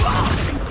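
The Levioso levitation spell is cast in Hogwarts Legacy, a brief, loud, dense magical whoosh lasting under a second.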